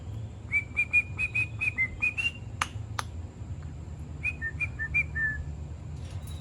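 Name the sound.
pet birds whistling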